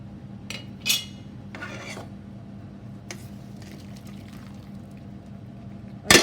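Boiled homemade spinach pasta sheets and their hot water are tipped into a strainer, giving brief splashy pours and scraping rustles between quiet gaps, with a sharper clatter at the end.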